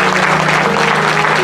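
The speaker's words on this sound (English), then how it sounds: "Let's give God a hand clap." A church congregation claps together at an anniversary service, a brief burst of dense, steady applause from a crowd filling the room.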